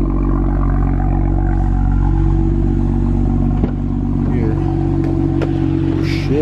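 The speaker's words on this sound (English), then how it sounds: "you can hear the rough idle too" A BMW engine idles roughly with a steady, loud, close drone and a faint uneven rattle, and a person talks over it briefly.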